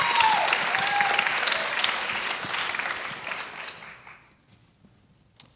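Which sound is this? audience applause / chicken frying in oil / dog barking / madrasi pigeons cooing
audience applause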